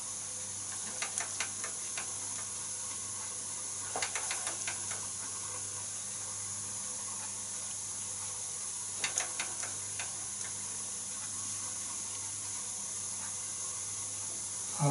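A safety valve on a Bing 130 452 toy steam engine blows off, a constant steady hiss with faint intermittent ticking and clicking from the running engine.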